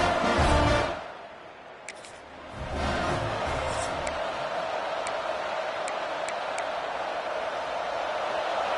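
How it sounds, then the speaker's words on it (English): A college football stadium crowd roars a loud welcome, a broad sustained wash of cheering and noise that swells, dips briefly, then holds steady with scattered sharp whistles on top. "This crowd bringing an ear-splitting welcome to their visitors."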